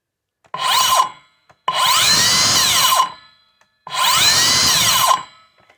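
A 7 1/4 inch circular saw fitted with a metal-cutting blade spins up three times in separate bursts, each whining run lasting about one to one and a half seconds before winding down, loud and close with no talking.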